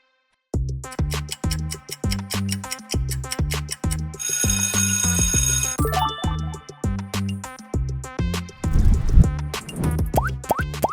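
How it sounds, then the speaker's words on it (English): Cheerful alarm clock ringtone for an early morning wake-up: a loud, rhythmic melody of repeated bell-like tones plays continuously, with a brighter ringing burst partway through and a busier musical flourish near the end. "It's alarm time. Which one you set for early morning wake up?"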